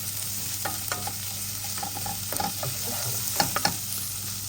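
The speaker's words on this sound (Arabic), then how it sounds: "هذا الحشو تذوب على راحتها السمنه." Stuffing for chicken majboos frying as Syrian ghee melts in a pan, a soft steady sizzle with faint scattered crackles and occasional stirring clicks, close and alone with no talking.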